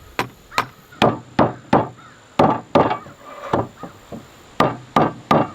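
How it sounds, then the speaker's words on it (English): A hammer knocks 3/8 wooden dowels into holes in a wooden shelf bracket, giving a dozen or so sharp, close wooden thwacks in an irregular but steady rhythm. "Use your hammer."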